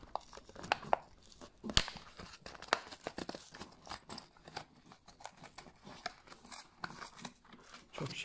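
Hot Wheels toy car packaging is forced open, with close tearing, crinkling cardboard and plastic, and sharp rips among softer rustles, in a quiet room.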